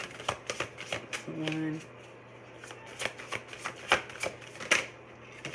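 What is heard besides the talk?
drawing cards from a card deck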